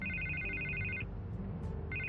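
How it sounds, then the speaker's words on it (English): Telephone ringing in a repeating electronic trill, two bursts separated by a short pause, fairly loud over a low background hum. "I can't get the phone to stop ringing"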